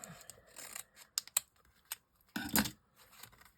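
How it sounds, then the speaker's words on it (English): Small scissors snip paper in a few quick, quiet cuts, close by, separated by short pauses and light rustling. "It's slightly smaller pair of scissors to get in here."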